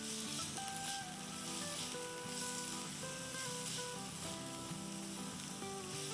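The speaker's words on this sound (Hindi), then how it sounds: "ये भी डाल देंगे और इनको अच्छे से सौटे करेंगे।" Green onion whites sautéing in a pan while cooking chickpeas, a steady soft sizzle running throughout, fairly quiet, with a melodic music track playing over it.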